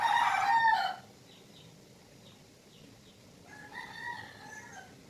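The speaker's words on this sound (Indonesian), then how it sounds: "kalau dia berkokok lagi saya akan mengusirnya" A rooster crows loudly and close for about a second with a harmonic, rising-then-falling call, followed by a quieter second crow and faint chirps over low ambient noise.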